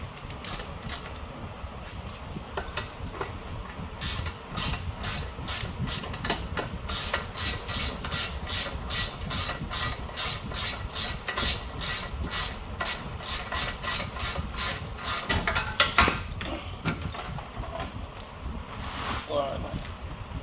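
A wrench works a nut free from the front suspension of a Lexus GS430, near the A-arm, ball joint and knuckle. It gives a steady run of sharp ratcheting clicks, close and continuous for about twenty seconds over workshop noise.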